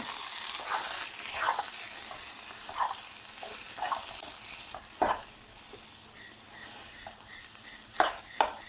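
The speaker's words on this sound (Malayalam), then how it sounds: "കറിവേപ്പില ഇട്ട് കൊടുത്ത് ഇളക്കി കൊടുക്കാം." Green gram and raw banana puzhukku with curry leaves is stirred in a pot, giving a steady sizzle and bubbling with repeated scraping strokes of a spoon and a few sharper knocks near the end.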